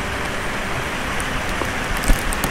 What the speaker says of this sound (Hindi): बारिश यहाँ पे तकरीबन 1 घंटा मैं बैठा हूँ और खूब दबा कर बारिश हो रही है